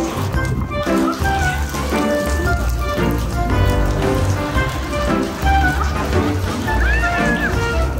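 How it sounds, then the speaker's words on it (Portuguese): Steady rain pours down outdoors, a constant wash of drops on surfaces, with voices and other sounds mixed over it. "Olha a chuva."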